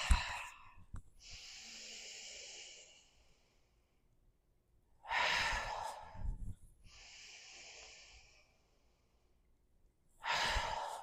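Audible exhales during a yoga breathing practice: two long, soft breathy hisses, each followed by a sharper, louder rush of outbreath, close to the microphone and heard alone without talk.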